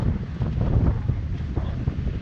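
A gust of wind rises over a sailboat under way in a wind of about 22 knots, buffeting the microphone in a steady low roar with a slight swell toward the end.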